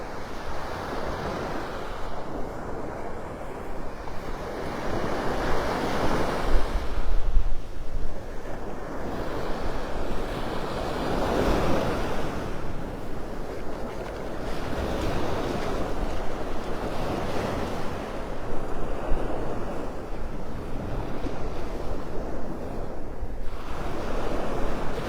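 Ocean waves roll in and wash up on Delnor-Wiggins beach in Naples, Florida, a continuous loud surf roar swelling in broad surges every few seconds, with steady wind buffeting the microphone and no voices.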